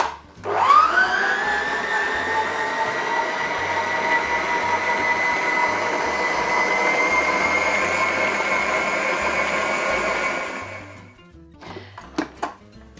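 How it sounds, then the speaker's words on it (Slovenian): A kitchen mixer kneads gluten-free dough with a steady whirring motor hum that holds for about ten seconds, then stops, followed by a few light clinks. "Stroj nam je dobro pregnetel testo"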